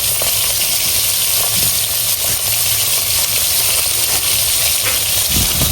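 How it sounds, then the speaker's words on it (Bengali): Climbing perch, or koi fish, frying in a pan gives a loud, unbroken sizzle and hiss that lasts from start to end with no talk. "এই জন্য কই মাছটা ভাইজে নেওয়া হচ্ছে আগে।"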